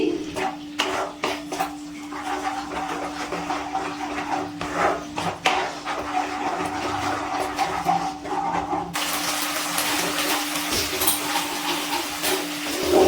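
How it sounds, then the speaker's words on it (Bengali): Spices sautéing with whisked yogurt for cauliflower korma give off a soft, steady hiss and low sizzle, with occasional scraping and tapping of a spoon in the pan. "এবার ভালো করে মিশিয়ে নিয়ে একটুখানি কষিয়ে নিচ্ছি।"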